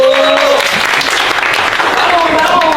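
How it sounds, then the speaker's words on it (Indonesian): A studio audience claps hands in a dense, loud burst of applause that carries through the whole moment, with a voice heard over it at the start and end. "boleh tepuk tangannya dulu"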